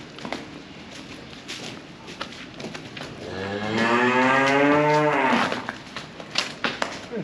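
A cow on a farm during calving season lets out one long, loud, drawn-out moo in the middle, close by, with faint shuffling and rustling before and after.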